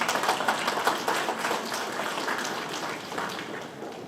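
Audience at an awards and recognition ceremony giving a round of applause for an honoree, a soft, steady patter of many hands clapping at moderate distance, fading slightly toward the end.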